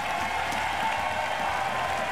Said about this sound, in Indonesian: beri tepuk tangan yang meriah untuk Mas Adi MS